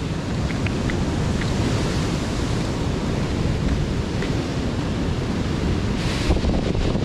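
Strong, steady wind roars into the microphone at the flooded Dipolog Boulevard seafront during Typhoon Kristine, with a broad rushing wash like surf behind it, constant and loud throughout, with no voices.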